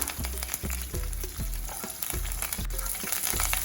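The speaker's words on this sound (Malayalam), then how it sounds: "ഒരു ടീസ്പൂണ് കടുകും ഒരു നാലഞ്ച് വറ്റൽ മുളക് മുറിച്ചതും ചേർത്ത് കൊടുക്കാം" Mustard seeds, cut dried red chilies and curry leaves fry in hot oil for a pumpkin and bean erissery, a steady close sizzle with regular stirring scrapes and sputtering pops, no talking.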